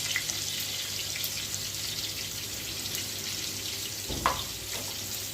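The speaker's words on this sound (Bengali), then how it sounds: "পটলগুলো এখন আমি আস্তে আস্তে ভালো করে ভেজে নেব" Pointed gourd with turmeric sizzles steadily as it fries in a pan, with one brief clatter near the end and no voices.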